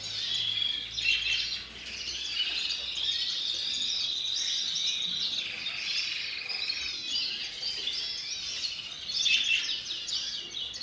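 Many caged birds chirp and twitter together at a bird breeders' show in Nowa Huta, Kraków, a dense, continuous chorus of high calls at moderate distance, swelling slightly at times, with no talking.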